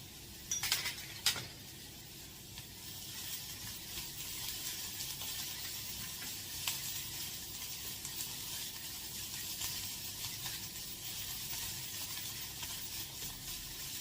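Curry leaves sizzle in hot oil in a frying pan for rasam, a steady broadband crackle throughout with a couple of sharp pops near the start and faint utensil clinks, no voices.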